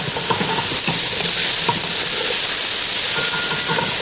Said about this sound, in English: That means just stirring them, gently heating them through